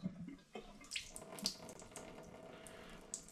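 Beer trub and yeast from a demijohn poured down a kitchen sink during home brewing, heard as a steady liquid splash and gurgle with small drips and clinks, close and fairly quiet, with no talking.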